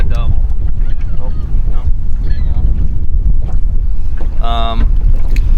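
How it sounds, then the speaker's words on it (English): Strong wind buffets the microphone on a New Jersey reservoir during summer trout fishing, a loud, steady roar with no break that swamps a brief tonal beep or whine partway through. "the wind's blowing pretty good"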